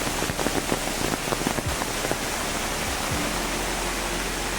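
Floodwater pours and rushes across flooded fields after a river overflows in heavy monsoon rain near Devagad, Sindhudurg, a loud, steady broadband roar like a waterfall that continues unbroken throughout.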